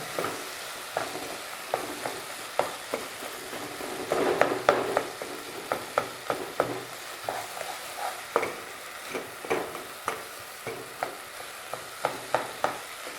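South Indian sweet fruit curry, madhura pachadi, simmering in a pan with a soft, steady sizzle while a spoon scrapes and knocks against the pan in regular strokes about once a second, close by and without talk.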